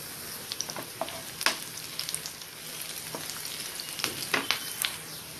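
Curry leaves and onion fry in hot oil, giving a steady crackling sizzle with sharp pops and spits scattered throughout.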